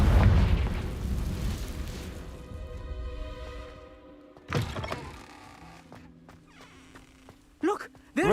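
Confringo blasting spell from a magic-themed video game, heard as a sharp burst at mid-clip and another near the end over a fading, rumbling game soundscape with lingering tones.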